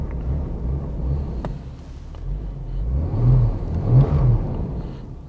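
A Ford EA Falcon engine idles and runs on LPG gas, a steady low rumble that swells twice into fuller revs as it begins running more smoothly, close and loud with no talking.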